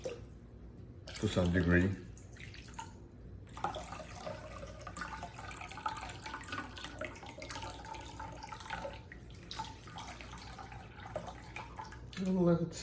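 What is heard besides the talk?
sharpening stone being submerged and soaked in water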